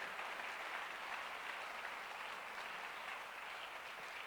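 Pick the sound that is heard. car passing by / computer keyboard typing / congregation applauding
congregation applauding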